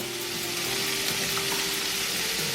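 Shrimp sizzling steadily in a hot pan on the stove for shrimp and grits: a loud, close, continuous hiss of frying with no talking.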